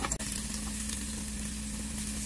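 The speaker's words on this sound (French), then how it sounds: "vu que notre huile est chaude par ici, on va venir ajouter l'oignon qu'on a émietté" Crumbled onion dropped into hot oil sizzles steadily, opening with a brief clatter and dip, then a constant close hiss with faint stirring underneath and a low steady hum, no voices.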